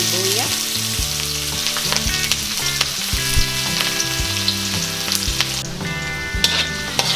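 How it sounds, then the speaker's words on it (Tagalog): Onions sizzle and crackle in hot cooking oil in a pan, a close, continuous frying hiss with scattered pops and a few utensil clinks, no talking. "Ngayong mainit na po ang ating mantika ay ilalagay ko na po ang sibuyas."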